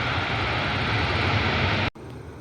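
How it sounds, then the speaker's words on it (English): A Boeing 737 MAX 8 jet arriving at Cleveland roars as a loud, steady broadband engine rush that cuts off sharply near the end, leaving quieter background noise. "this time it's a MAX 8 inbound from Orlando"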